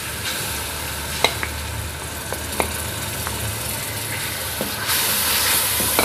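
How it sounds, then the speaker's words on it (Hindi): Garlic ginger paste frying with onions in a pan for fish masala, a steady broadband sizzle with occasional small pops and clicks, constant and close, growing slightly louder and brighter near the end, no speech. "अब इसको भी डालकर 1 से 2 मिनट तक भूनेंगे"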